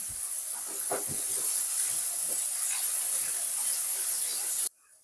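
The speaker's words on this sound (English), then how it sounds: "I'm just straining off the pasta" Freshly cooked pasta being strained in a kitchen gives a steady, loud hiss of steaming hot water that runs for several seconds, then cuts off abruptly, with faint clattering underneath.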